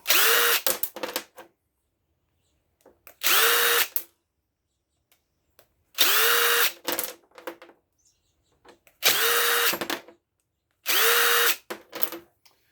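A power drill backs screws out of a gas grill in five short, loud whirring bursts, evenly spaced with silent gaps and small metallic clinks between them.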